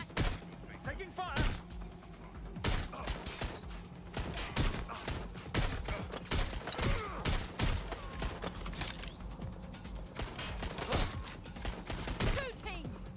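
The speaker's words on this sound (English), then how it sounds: "Being shot at! Taking fire!" Sustained gunfire in the video game Watch Dogs Legion, with dense bursts and sharp single shots cracking loudly and continuously throughout, mixed with thuds and impacts.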